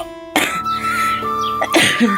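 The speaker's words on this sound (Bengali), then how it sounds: "সরি, কাশি হয়েছে, খুসখুস কাশি না" Two dry, close coughs from a person at home burst out in quick succession over a faint steady background tone.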